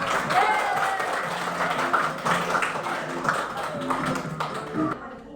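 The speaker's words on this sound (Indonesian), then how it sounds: "Tepuk tangan untuk kita semua." A classroom of students claps hands together, a dense patter of many small hands running steadily for several seconds before trailing off, with some chatter mixed in.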